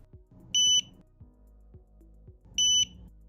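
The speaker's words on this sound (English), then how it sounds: "observe how pressing the button triggers the buzzer" An electronic buzzer triggered by a push button on an IRIV PiControl controller beeps twice, each a steady high-pitched tone lasting about a quarter second, separated by quiet clicks and handling noise.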